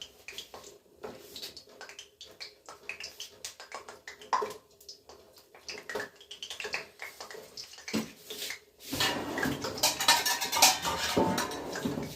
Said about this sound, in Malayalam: അതിനുവേണ്ടി എണ്ണ അടുപ്പിലോട്ട് വയ്ക്കാം